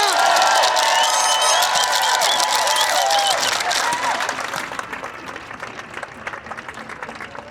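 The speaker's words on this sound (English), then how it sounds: "Everybody give me a big, big round of applause for Kevin Jenkins." A political rally crowd at the State Capitol claps and cheers loudly and steadily, with whoops and shouts over dense applause that gradually thins toward the end.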